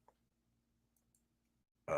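A frog lets out a single loud, deep, throaty croak that bursts in at the very end after a near-silent stretch with only a faint low hum.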